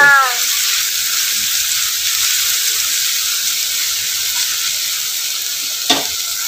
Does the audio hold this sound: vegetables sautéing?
yes